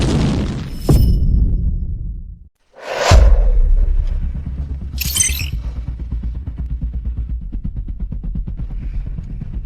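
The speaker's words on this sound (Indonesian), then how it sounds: "Kita masih belum bisa menghentikan ledakan." A sharp burst, then a brief silence, followed by a loud booming blast of a plane explosion that rumbles on and slowly fades, with a hissing whoosh on top.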